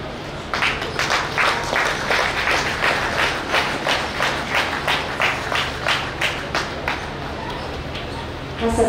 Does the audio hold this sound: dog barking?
no